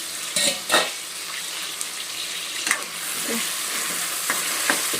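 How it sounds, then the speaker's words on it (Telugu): Vegetables frying in oil in a pan for dalcha, a steady close sizzle throughout with a few louder scraping stirs near the start and scattered soft clinks. "ఇవి నూనెలో కొద్దిగా మగ్గాలి"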